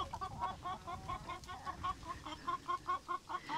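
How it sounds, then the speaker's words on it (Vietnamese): Free-range chickens roaming the hillsides of a remote mountain village cluck repeatedly at close range, a steady run of short calls with no voices. "Gà mà thả núi trên đây này, khi mà mình ăn thịt đó nó rất là ngon luôn."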